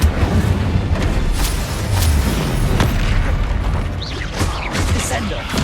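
Booming blasts and crackling bursts from spells cast in the wizarding game Hogwarts Legacy, including the Incendio fire spell, loud and repeated over several seconds of combat.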